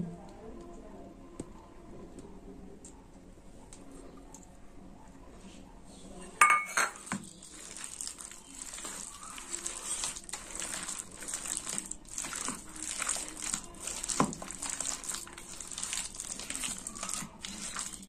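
Beaten egg worked into a potato mixture in a bowl: a quiet stretch, then a sudden clatter followed by busy, continuous scraping and clinking of a utensil against the bowl.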